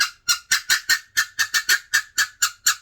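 A rapid series of about a dozen sharp, raspy chirps in a steady rhythm, loud and close, a hunter's squirrel call imitating a squirrel's chatter while deer hunting.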